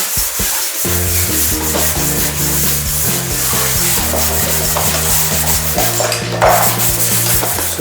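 Drywall joint compound sanded by hand with 80 grit paper on flats and angles, a loud continuous scratchy rubbing close by, steady throughout.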